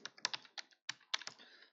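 Light, quick typing on a computer keyboard during a Java EE class lecture, a dozen or so close, crisp key clicks in an uneven burst under two seconds, with no talk.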